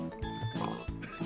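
Pig oinking in the Minecraft video game, a few short grunts sounding close over steady game music, with no talk.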